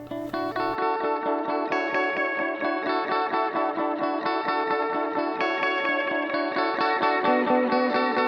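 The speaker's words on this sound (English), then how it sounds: "Echo is a delay effect styled after classic analog tape delays." A bright synth line repeats through Ableton Live 10's Echo analog-style tape delay, each note echoing in quick rhythmic repeats that smear together, steady and fairly loud.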